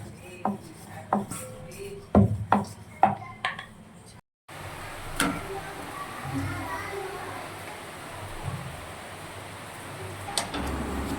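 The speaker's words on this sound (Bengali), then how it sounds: "এই যে আমি রুটিগুলো বেলে নিচ্ছি আস্তে আস্তে" Roti dough being rolled out with a rolling pin in a home kitchen, heard as a string of close wooden knocks and rubs over the first four seconds, then softer scraping and occasional taps against a low background hum.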